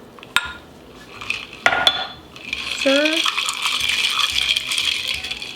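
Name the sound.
Thai tea being poured into a glass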